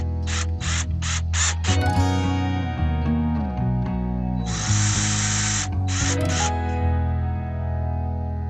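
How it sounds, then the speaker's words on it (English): A cordless screwdriver drives screws into a planter box in short whirring bursts, with several quick pulses before a longer sustained run and a few final bursts, loud and close. "Take the cordless screwdriver here and just put these in."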